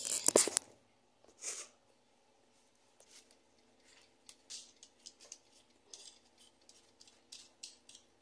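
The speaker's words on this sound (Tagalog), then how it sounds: "binabalatan ko na pala dyan yung patatas guys" Potatoes being peeled by hand with a knife in a home kitchen: a sharp clatter of utensils at the start, then a run of small, close scraping and ticking cuts at an uneven pace, with faint background hum.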